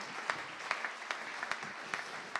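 Steady applause from a crowd, a dense wash of clapping with a few sharper individual claps standing out, no voices.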